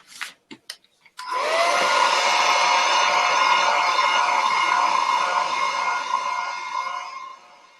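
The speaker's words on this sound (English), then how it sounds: "I'm going to hit this with a blow dryer again." A few handling clicks, then a blow dryer switches on and runs steadily at close range for several seconds to dry paint, a loud whooshing hum before it tapers off.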